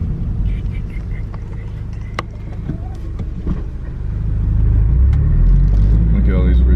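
Loud 2013 Subaru BRZ engine driving, a steady heavy low rumble that swells louder toward the end, with faint voices underneath.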